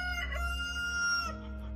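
Chickens in a backyard garden crow and cluck, a rooster's crow standing out clearly over steady low hum, with no voices present.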